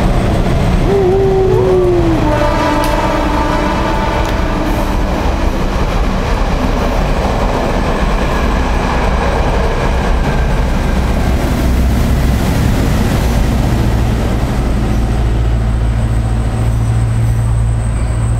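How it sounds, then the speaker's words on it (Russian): A train in Sri Lanka rumbles past close by, a steady loud roar of wheels on rails that lasts throughout, with a brief horn-like tone near the start. "Сейчас поедет поезд, вы это услышите."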